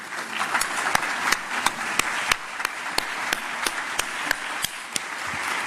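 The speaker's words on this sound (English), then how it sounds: "would you mind taking a moment to stand so we can appreciate you with a bit of applause?" Audience applause at an arts gathering, steady broadband clapping from a crowd with a few sharper individual claps standing out, sustained throughout at moderate level.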